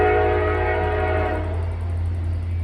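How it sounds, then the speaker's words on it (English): A train rumbles steadily in the distance with a drawn-out horn blast layered over the low droning roar, heard from a few miles away near a metro line. "That's a train."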